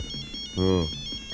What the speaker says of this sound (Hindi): सर बज रही है सर, अब फोन की घंटी ही